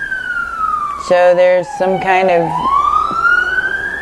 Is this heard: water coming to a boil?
no